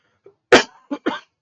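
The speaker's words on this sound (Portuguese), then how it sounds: "perdão pela tosse" A short burst of coughing, three quick coughs close to the microphone with brief pauses between them.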